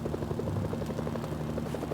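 Helicopter rotor thumping steadily and continuously in the video game Mercenaries: Playground of Destruction, a loud, close rhythmic chop heard alone.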